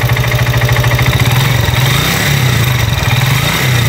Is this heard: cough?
no